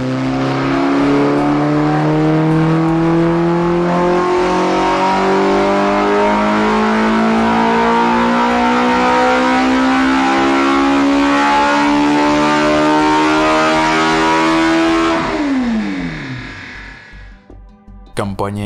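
A loud flat V8 motorcycle engine, a lightweight high-revving unit with Ferrari-like character, screams steadily up toward 11,000 rpm, its pitch climbing for about fifteen seconds before dropping sharply as the throttle closes and the engine falls to idle.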